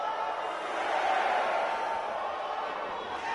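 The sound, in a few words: crowd counting along with the referee, from WWE 2K18 video game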